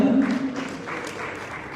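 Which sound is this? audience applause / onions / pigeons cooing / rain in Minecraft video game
audience applause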